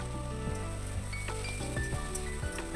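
Potato and greens frying in a pan while being stirred, giving a dense, steady sizzle with a few scraping stir strokes, close and continuous, with a low hum underneath.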